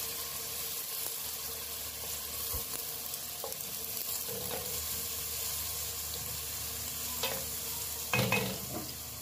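Ingredients for mung bean stew with sardines and glass noodles sauté in a pan, a continuous soft sizzle with occasional stirring clatter, close and alone.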